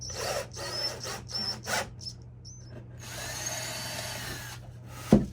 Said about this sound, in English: I can go ahead and pre-drill all the other holes